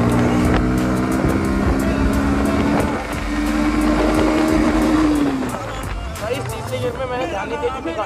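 A 2023 Bajaj Pulsar NS 160 BS7 motorcycle accelerates hard in third gear, its engine tone rising steadily and loudly before easing off near the end, with someone talking over the ride.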